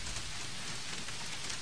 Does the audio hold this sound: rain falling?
yes